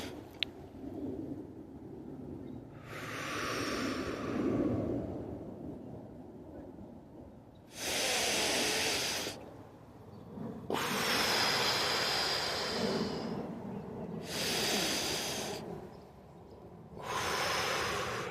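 Deep, slow breaths during a meditation walk through a moon labyrinth circle, close to the mic and loud, with long airy inhales and exhales spaced a few seconds apart and quieter rustling in between.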